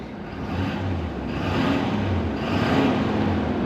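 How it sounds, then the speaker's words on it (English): A 2024 Ford F-250 King Ranch Tremor with a turbo diesel V8 idles with a steady low rumble, and the engine surges in two mild revs, heard up close. "let's go ahead and we can hear this turbo diesel V8 a little bit"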